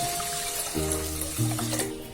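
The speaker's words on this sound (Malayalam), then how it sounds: "ഇനി നമുക്ക് ഇതിലോട്ട് വെള്ളം ഒഴിക്കാം." Four cups of water are poured into a pressure cooker holding rice, making a steady, close splashing fill whose tone rises in steps as the pot fills.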